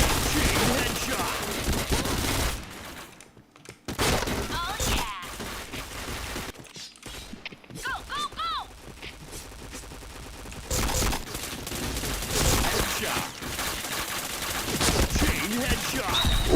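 Rapid automatic gunfire and single shots crack in a shooting video game, coming in dense bursts separated by brief silent gaps, with in-game effects and faint voice sounds scattered between the volleys.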